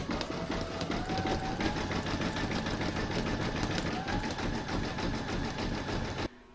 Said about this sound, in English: Next I'm going to stitch round 6, and that's going to do the zigzagging around the join here.